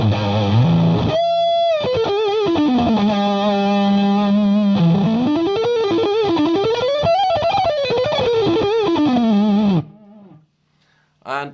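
A guitar through the two-stage overdrive of a Strymon Sunset pedal plays a gritty, moderately driven line with bends and sliding notes, loud and close, then cuts off into near silence and a brief final note.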